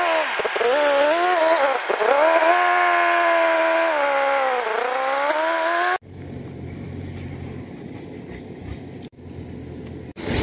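A rice combine harvester works a paddy field during flood season, its engine a loud, steady droning whine for about six seconds before dropping to a quieter, more distant rumble.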